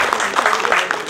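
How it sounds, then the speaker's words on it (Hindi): Brief burst of audience clapping at a Hindi comedic poetry gathering, fairly loud and close, lasting about a second with voices mingled in. "आप भी ताली वाली बजा दीजिए"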